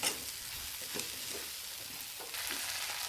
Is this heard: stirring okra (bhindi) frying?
yes